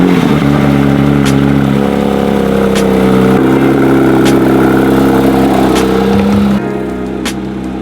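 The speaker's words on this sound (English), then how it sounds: "I'd be hopping in a 992 GT3 RS to go to work" Porsche 992 GT3 RS engine running loud and close, a steady high-pitched drone with shifting tone and brief rises, dropping slightly near the end.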